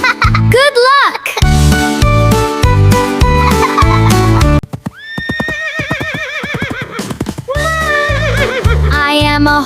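Several horse whinnies, high and wavering, over bouncy music with a clip-clop beat; a voice sings along in between.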